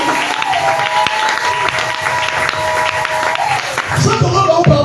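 A church congregation claps and cheers in acclaim, steady dense applause filling the room with a sustained tone underneath, then a louder burst of voices and clapping near the end.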